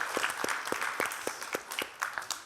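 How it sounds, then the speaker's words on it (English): A small audience claps after a speaker at a freelance media careers panel, a steady patter of hands with distinct claps standing out, fairly close and moderately loud. "y'all can clap it up."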